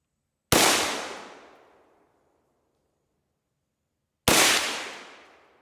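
Two loud, sharp unsuppressed rifle shots with the gas system wide open, each a sudden blast that rings out and decays over about a second and a half, a few seconds apart.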